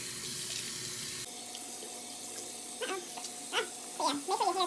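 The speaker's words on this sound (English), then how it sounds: "I use warm water to rinse." Warm water runs from a bathroom sink tap while a face is rinsed, a steady close hiss of flowing water with splashing, and someone speaks briefly over it toward the end.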